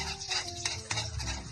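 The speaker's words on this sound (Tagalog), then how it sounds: "Igisa mo muna yung bawang." Garlic sautéing for fried rice in a pan, a brief low sizzle with a few soft utensil scrapes and clinks, quiet and close.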